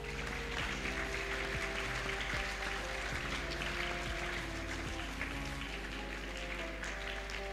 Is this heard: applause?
yes